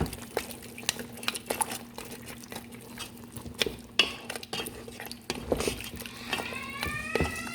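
A pot of Nigerian chicken tomato stew being stirred, with scattered clinks and scrapes of a utensil against the pot and a soft bubbling underneath, fairly close and moderately quiet.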